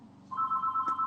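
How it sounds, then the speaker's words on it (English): A mobile phone rings with a steady electronic tone, one short burst rising suddenly and pulsing evenly at close range, alone without talk. "that's my phone."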